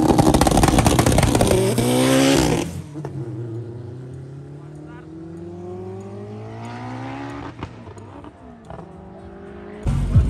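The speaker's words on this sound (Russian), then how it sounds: "Что, Юра Дивинол с Dodge Neon едет?" A Dodge Neon races on a drag strip, with loud engine roar and revving at the start cutting off into a quieter stretch of distant engine tones and brief squeals, then rising again at the end, with commentary talk over it.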